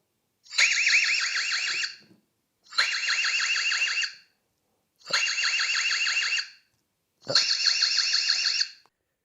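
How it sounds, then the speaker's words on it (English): A loud electronic alarm from an EZVIZ CB3 wireless security camera sounds in four repeated bursts of warbling beeps, each lasting over a second with short silent gaps between. "Alarm."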